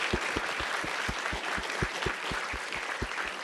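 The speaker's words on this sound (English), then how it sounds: "Can we have a huge round of applause for all of our panelists?" Applause from a conference audience for a panel of speakers, steady clapping with distinct individual claps standing out close by over the broader crowd.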